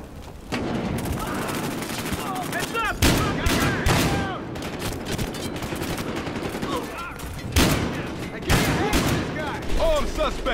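Gunfire in Battlefield Hardline's Bloodmoney mode on the Growhouse map: sharp automatic bursts and single loud shots crack repeatedly over a busy, noisy firefight, with in-game voices calling out between them.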